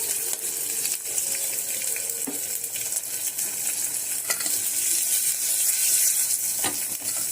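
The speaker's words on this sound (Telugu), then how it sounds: "ఆవాలు కూడా చిట్టపట్లు ఆడుతున్నాయి" Mustard seeds sputter in hot oil: a steady close hiss of sizzling with scattered crackles and pops, no voices.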